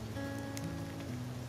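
Autumn rain falls on a wet street in Germany, a faint, steady hiss of drops with occasional light ticks of individual raindrops.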